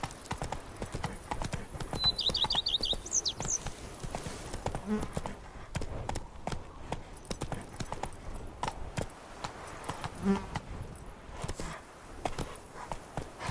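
Roach, a horse in The Witcher 3: Blood and Wine, clip-clops along at a steady rhythmic gait, hooves close and clear, with a brief whinny early on and sparse speech underneath.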